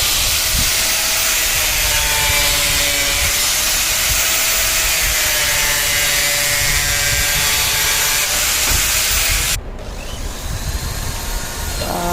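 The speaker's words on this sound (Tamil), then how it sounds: "அதையும் கட் பண்ணி எடுக்கிறாருங்க இவர்." A power tool cuts through wood with a loud, continuous hissing whine that holds steady for about nine seconds, then drops abruptly to a quieter rumble.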